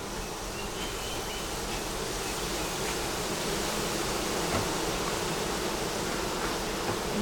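Dense, steady hum of honey bees buzzing around a hive, a continuous droning swarm noise with no breaks and no talking.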